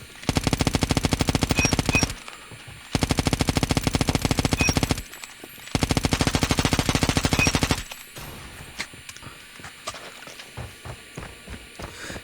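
Gun hip-fired in the video game Call of Duty: three bursts of rapid automatic fire, each about two seconds long with short pauses between, followed by quieter clicks and handling sounds.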